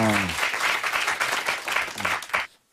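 A live studio audience at a Korean political talk show's special public broadcast breaks into loud, sustained applause for about two and a half seconds, with a voice briefly heard at the start, before cutting to near silence.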